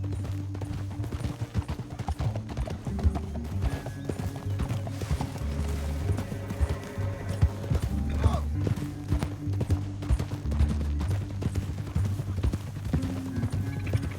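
Horses' hooves clip-clop at a gallop across open ground in Red Dead Redemption 2, a steady rolling beat under a low music bed, with an occasional whinny and faint distant gunfire.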